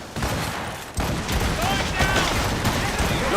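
Ship cannons firing in Assassin's Creed Rogue boom in a rolling naval volley, heavy blasts layered over sea and battle noise, with a voice calling out among the shots.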